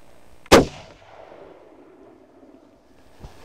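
A single sharp shotgun blast during a quail hunt on a ranch, loud and close, followed by a fading rumble and near silence, with a faint knock near the end.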